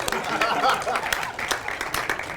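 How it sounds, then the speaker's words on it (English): Audience at a motivational talk hand clapping with scattered claps, crowd noise and faint laughter, moderately loud and close throughout. "give me a hand clap."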